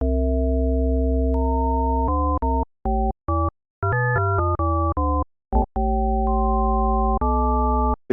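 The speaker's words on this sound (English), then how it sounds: "We can create some quite kind of organy sounds, because this is the way an organ works." Pure, steady additive-synth sine tones stack into organ-like chords, switching pitch in a series of sustained notes and short stabs separated by brief silences.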